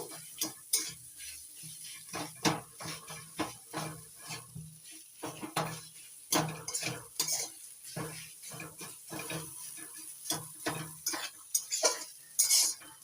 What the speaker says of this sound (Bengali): নাড়াচাড়া করে ভালো করে মিশিয়ে ভাজা ভাজা করে নেব